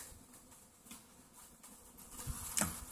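A faint, steady buzz of bees in a bucket hums throughout, with a few soft knocks and a brief scrape near the end.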